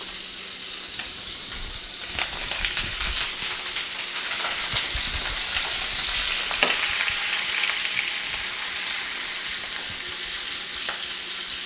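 Shrimp frying in a hot pan for a Chinese rice dish, a steady dense sizzle with crackling spits and occasional stirring scrapes, close and continuous with no talk.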